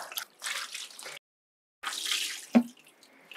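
Water pours and splashes in bursts while lemons are rinsed in a homemade bucket strainer, with a brief pause between pours and a single sharp drip or knock near the end.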